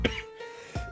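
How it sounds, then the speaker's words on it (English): A single person coughs twice close up, a sharp throaty burst at the start and another near the end, with no talk around it. "I don't know why I have a cough again."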